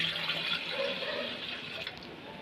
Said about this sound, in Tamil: 2 மக்கு தண்ணி ஊற்றுறேன்.